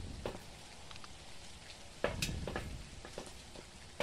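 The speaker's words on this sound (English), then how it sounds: "It's raining!" Steady rain in the horror video game Phasmophobia, a soft continuous patter with scattered drops and a brief louder swell midway, no talking.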